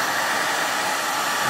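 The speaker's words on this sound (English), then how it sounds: "Mommy's got the hair dryer, people." A handheld hair dryer blows a steady, loud, close rush of air, used to dry a thick layer of Wise Owl Chalk Synthesis Paint, running without pause and with no talking.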